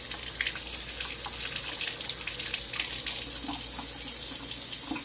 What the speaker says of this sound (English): I'm just going to rinse them.